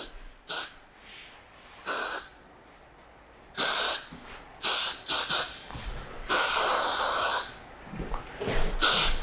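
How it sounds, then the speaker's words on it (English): Repeated short hisses of hairspray misted onto a styled haircut, about six bursts of uneven length with a longer spray near the end, close and clear with no talking. "I just finish off with a bit of hairspray"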